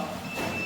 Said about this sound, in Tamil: இப்போ உங்களுக்கு பீப் சவுண்ட் ஏன் வருது அப்படின்னா உள்ள வந்து டெம்பரேச்சர் கம்மியாக இருக்கும்.